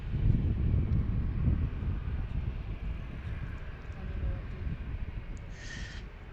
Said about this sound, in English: we have a Cessna citation coming in from Lewisburg